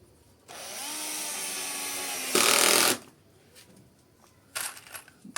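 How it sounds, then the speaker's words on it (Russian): A power screwdriver drives self-tapping screws into a lightweight wall frame. A loud steady whir rises in pitch and ends in a harsh burst, then a short pause and some lighter clatter. "Стягиваем все это саморезами."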